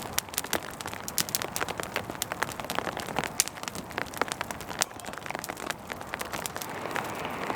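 Rain patters on a tarp at night on a winter mountainside near a city, a dense, steady stream of close, sharp droplet taps with no talking.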